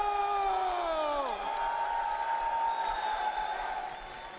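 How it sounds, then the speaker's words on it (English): A crowd at a Dota 2 International viewing party cheers and whoops in a continuous roar, with a loud rising and falling shout over the sustained crowd noise. "hearing all those cheers out there from their fans"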